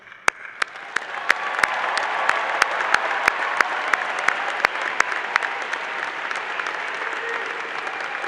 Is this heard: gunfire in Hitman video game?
no